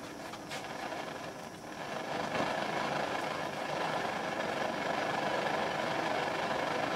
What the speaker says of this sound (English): A working liquid piston engine.